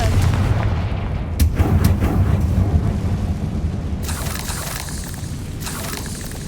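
A Confringo spell explodes in the Hogwarts Legacy video game, sharp booming blasts near the start, then a rumbling roar and a bright crackling burst later, loud and close.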